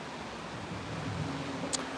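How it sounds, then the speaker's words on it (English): Constant broadband rushing of a waterfall by a solid brass fountain in Wetumpka, Alabama, a steady wash of falling water without voices. "In case you're wondering what the background noise is, it's the waterfall."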